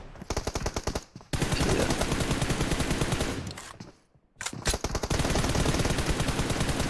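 Sustained automatic gunfire in PUBG Mobile, loud rapid bursts rattling almost continuously, with one short pause and a brief quieter gap before firing resumes.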